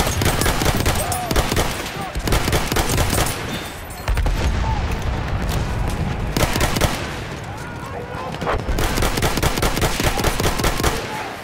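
Rapid rifle gunfire from Battlefield 1 rattles in dense bursts with a brief lull midway, loud and close, with a voice talking over parts of it.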